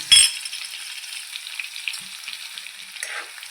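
Crushed garlic dropped into two spoons of hot oil in a pan, making a sharp splash at first that settles into a steady, close sizzle and crackle with no talking.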